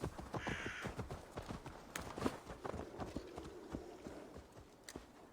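Horse hooves clip-clop at a slow walk in the Assassin's Creed Valhalla video game, an uneven series of close thuds and knocks, with a crow cawing briefly amid the steps.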